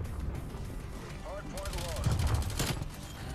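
Bursts of gunfire from an LC10 submachine gun in Call of Duty crackle in quick repeated shots near the end, with a voice talking underneath.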